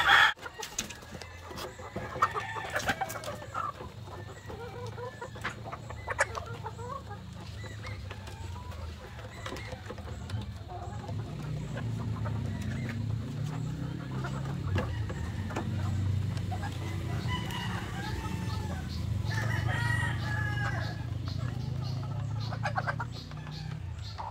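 Chickens in a breeding pen cluck steadily with occasional rooster crows, a busy continuous flock chorus at close range ahead of an afternoon feeding, with a few bumps and rustles.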